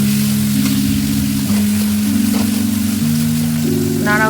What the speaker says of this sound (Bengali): এখন কড়াইতে তেল দিয়ে শুকনো লঙ্কা, কালো জিরে, তেজপাতা এবং কাঁচা লঙ্কা দিয়ে শাকগুলো আবার কড়াইতে দিয়ে দিচ্ছে